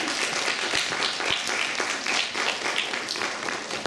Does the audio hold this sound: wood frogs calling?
no